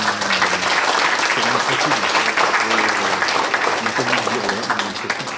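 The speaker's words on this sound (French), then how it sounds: "Donc on peut les remercier et les applaudir." A crowd at a political rally bursts into steady, loud applause that holds at full strength for several seconds before easing slightly at the end.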